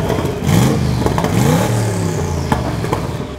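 A Bigfoot monster truck engine with Asia's biggest tires revs loudly up close, its deep rumble swelling and settling again with some mechanical clatter over a few seconds.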